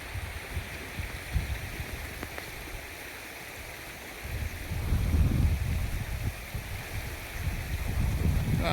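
Floodwater from heavy rain pours steadily into a farm field in a Gujarati village, a continuous broad rushing that swells louder partway through and stays strong, with no voices.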